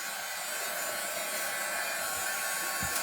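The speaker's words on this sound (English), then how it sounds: "Okay, I am going to dry this real quick. It's drying pretty quick." A hair dryer blows steadily and loudly on a craft project, a constant close-up whoosh that holds unbroken for the whole stretch without any talk.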